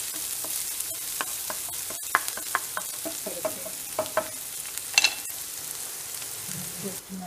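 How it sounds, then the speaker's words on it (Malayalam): Mustard seeds, onion and chili fry in hot oil for a chamba-kka thoran curry, giving a steady close sizzle with scattered pops and a few stirring clicks, and no one speaks. "എണ്ണ ഒഴിച്ച് കടുകിട്ടു, ഉള്ളി മുളകും ഇട്ടു."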